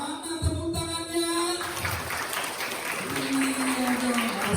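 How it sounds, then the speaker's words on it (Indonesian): Children applaud at a school Christmas sermon, a broad wash of clapping that runs the whole time under an adult voice speaking over it. "Sekali lagi, tepuk tangan yang keras sebelah sini dulu."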